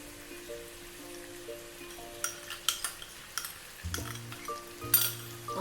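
Fried potatoes and masala being stirred in a pan for aloo bhujia, a spoon scraping and clinking in scattered bursts over a faint, steady sizzle, with no voices.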